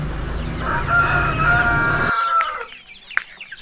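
A rooster crows over a farmyard, with hens clucking around it; the crow rings out clearly for a couple of seconds, then the scene falls quieter.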